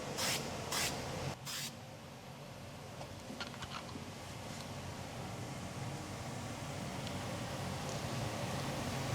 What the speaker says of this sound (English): when you spray that white powder on there, it will attract the dye back up out of the crack